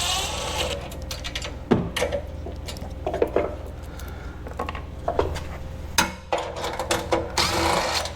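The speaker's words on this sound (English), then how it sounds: "So 4 more bolts to go, and then I can get this off of here." Bolts are being removed from a MechMaxx stump grinder's parking stand on its shipping crate, with scattered close metallic clanks, knocks and tool rattles over a steady low hum.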